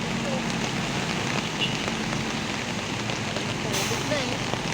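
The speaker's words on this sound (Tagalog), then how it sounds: "Yan po yung ulan. Yan po yung tubig dito sa may Bacau." Steady, dense hiss of heavy rain pouring down in Bacau, loud and continuous, with a faint rumble of traffic and occasional voices underneath.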